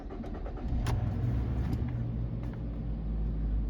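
A 2013 Nissan Rogue with a 2.5L engine cranks and catches, then settles into a steady, close idle rumble with no voices.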